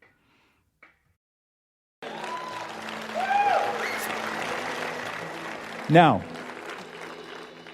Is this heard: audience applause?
yes